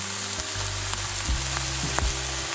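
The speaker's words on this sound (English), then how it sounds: "we're going to go in with that fried eggplant and toss" Eggplant stir-fried with light soy sauce sizzles loudly in a pan, steady frying crackle with a few scraping tosses of the utensil, close up and without speech.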